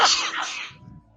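A single sharp, breathy sneeze burst, close and loud, fading quickly into quiet.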